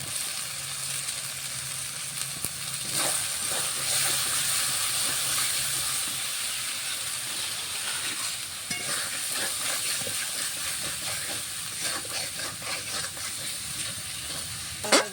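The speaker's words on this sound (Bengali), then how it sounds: "মশলাটা কষানো হয়ে গেছে, হালকা তেল ছেড়ে দিয়েছে" Spice paste with tomato, turmeric and salt frying in a pan for a jackfruit and prawn dish, a steady close sizzle broken by scraping stirs and light clinks from a spoon.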